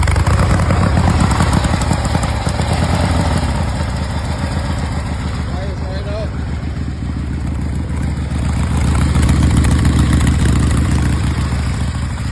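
A vintage Harley-Davidson Roadster motorcycle engine idles close by, a steady low rumbling throb with loose mechanical clatter, holding fairly even and loud throughout with a slight dip mid-way.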